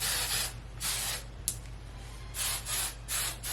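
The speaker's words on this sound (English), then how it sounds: "Now what we're gonna do is spray the hair and let it kind of cool off just for a minute." Hairspray hisses in several short bursts over freshly curled hair, each spray a soft, close rush separated by brief pauses, with no voices.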